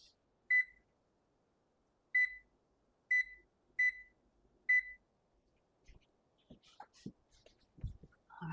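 A kitchen timer beeps five times in short, evenly spaced electronic tones while sourdough sandwich bread bakes, followed by faint rustling and handling noises near the end.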